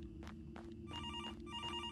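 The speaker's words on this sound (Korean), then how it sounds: "어? 전화 왔어." A phone rings in the horror video game Graveyard Shift, set in a cemetery, with a faint, repeated electronic trill in short evenly spaced bursts over a low steady hum.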